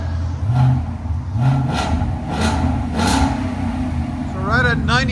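A 2024 Ford Mustang GT 5.0L V8 running Valvetronic Designs mufflers, blipped repeatedly in short rising revs over a rumbling idle, with voices speaking close by between the bursts.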